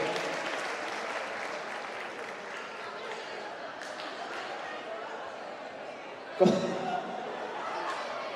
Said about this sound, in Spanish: Un aplauso para Iker.